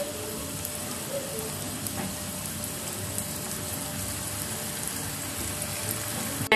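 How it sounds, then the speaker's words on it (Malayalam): Kaliyadakka rice dough balls dropped one by one into hot oil, giving a steady, even sizzle and crackle of deep frying that carries on without a break and with no talking. "ഓരോന്നായിട്ട് നമുക്ക് എണ്ണയിലേക്ക് ഇട്ട് കൊടുക്കാം."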